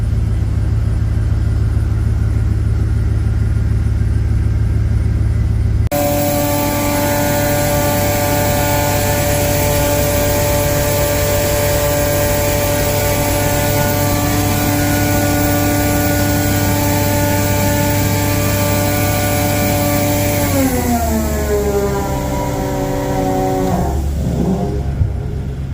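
An engine on a 2015 machine with 6,000 hours fires up abruptly after a low hum and settles into a loud, steady droning idle, then its pitch sags and winds down near the end.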